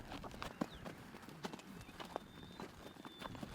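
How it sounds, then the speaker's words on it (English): Horse hooves clip-clop in a steady walking rhythm, close by, with faint bird chirps in the background. "there's an elegance to riding a horse"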